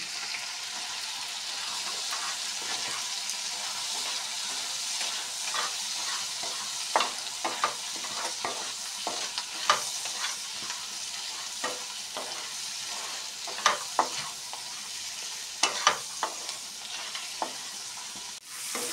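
Taro and crab fry in a pan with cumin, turmeric and garlic, producing a constant crackling sizzle punctuated by frequent stirring knocks and scrapes that grow sharper toward the end.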